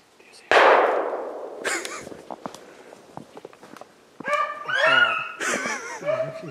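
Hunting dogs on a snowshoe hare hunt give loud yelps and barks at the start and again near the end, with footsteps and rustling through brush in between.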